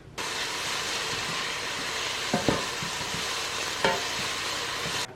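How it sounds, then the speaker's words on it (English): Continuous close sizzle from corned beef hash ingredients gently frying in a pan, a steady broadband hiss with a couple of brief clinks or stirs around the middle and later, no talking. "And then just going to gently fry these."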